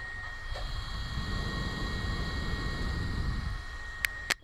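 Handheld fan with a cooling plate running at full speed gives a steady, close whooshing airflow hiss with a faint whine, continuing evenly before a couple of sharp clicks at the end.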